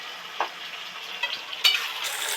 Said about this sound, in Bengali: মশলা তো ভাজা ভাজা হয়ে গেছে